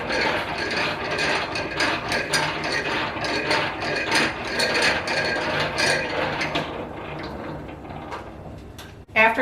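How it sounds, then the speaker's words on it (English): A honey extractor spins honey frames, giving off a continuous rattling, clanking mechanical whir with rhythmic knocks, close and steady until it stops abruptly at the end. "then we'll spin our honey and we'll see how much we get"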